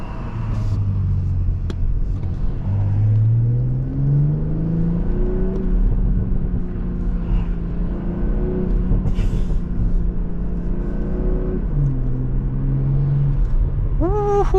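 A stock BMW M340i engine in sport mode while driving, a loud continuous drone with rising and falling revs and road rumble from inside the car.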